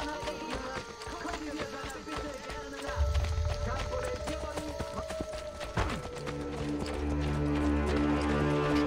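In Assassin's Creed Brotherhood, horse hooves clatter in a quick clip-clop rhythm alongside in-game music and ambient effects, with a horse snort, while someone talks in German over the game.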